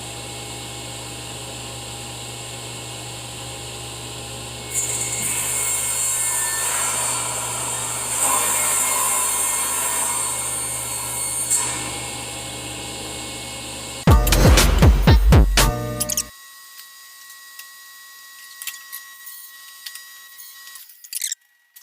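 A saw cuts wood strips for cabinet bases with a loud, steady whine that runs for about nine seconds, then clatters briefly before fading to near silence.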